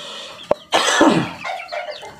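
White Merawang chickens in a coop give short throaty clucks and a raspy, cough-like squawk, close by, in quick irregular bursts with brief gaps.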